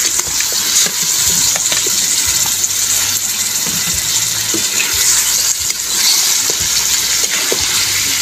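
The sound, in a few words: pork meat sauteing in a pan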